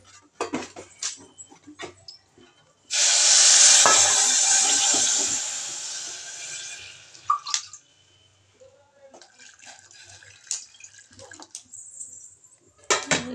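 Water pours steadily into a pot with jaggery for melting, for a few seconds, followed by clinks of the pot and sparse kitchen sounds.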